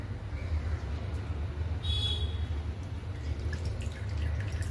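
Water drips faintly and irregularly from squeezed grated potato over a steady low background hum, with no talking.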